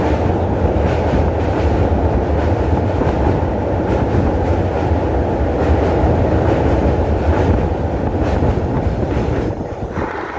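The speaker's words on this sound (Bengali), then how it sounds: "মিনিট 5 দাঁড়ানোর পর ট্রেন ছেড়ে দিল নৈহাটি স্টেশন থেকে" A train pulling out of Naihati station on the Kolkata to Tarapith route makes a loud, steady rumble of wheels and carriages with faint rhythmic clatter, heard up close throughout.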